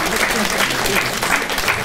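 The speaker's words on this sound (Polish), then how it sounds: "Wielkie brawa." An audience claps for a prize winner at a number-draw event in Sokółka, a brief loud burst of applause with voices talking over it.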